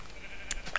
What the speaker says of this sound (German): Und ich höre hier auch die ganze Zeit schon Hühner, Schafe, Schwein